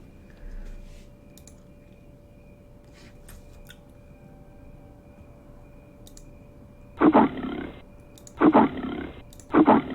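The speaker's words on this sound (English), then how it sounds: "so now let's look for a lion sound." A lion sound effect plays as three loud, short roars near the end, following several seconds of quiet room tone and faint computer clicks.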